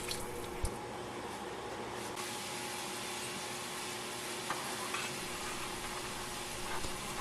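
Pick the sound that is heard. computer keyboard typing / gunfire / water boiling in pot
water boiling in pot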